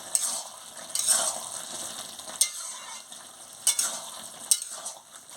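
Spoon stirring a pumpkin, potato and shrimp curry with toasted ground cumin in a frying pan, giving a soft steady sizzle broken by several sharp scraping clinks against the pan, with no talking.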